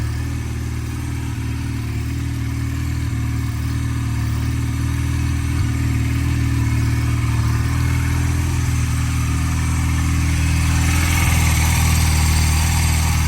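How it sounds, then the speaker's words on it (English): A 1996 Honda Rebel 250cc motorcycle engine with a carburetor in need of cleaning runs at a steady idle, loud and close, with a constant low throb and no speech throughout. "This motor's very nice, y'all."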